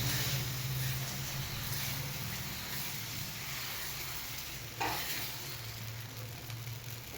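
Fasting-style dosa batter sizzles steadily on a hot pan in a home kitchen, a soft continuous frying hiss heard close up with a brief scrape partway through.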